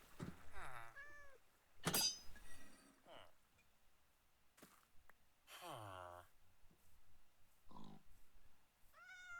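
A cat meows several times in distinct, drawn-out cries spaced across a quiet background, with a brief sharp clink in between.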